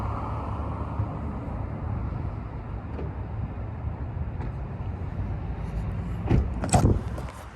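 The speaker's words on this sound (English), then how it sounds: "put them in the car, lock the car." A Toyota smart-key car's lock chirps twice in quick succession, short sharp electronic beeps standing out over a steady low outdoor rumble.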